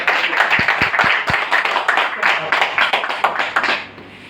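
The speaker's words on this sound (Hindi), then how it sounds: "एक बार जोरदार तालियां हो जाए।" Audience clapping at a motivational business seminar in a hall, a burst of fairly close hand claps with a few sharp isolated claps early, thinning and fading out after about four seconds.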